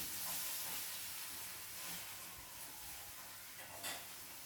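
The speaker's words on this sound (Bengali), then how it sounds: "এবার আমি এগুলোকে তেলে ছেড়ে দেবো। আমার সব কটাই তৈরি হয়ে গেছে, আমি তেলে দিয়ে দিয়েছি।" Eggs dipped in a semolina and cornflour batter hiss and sizzle faintly in hot oil, a soft steady frying sound with no talking.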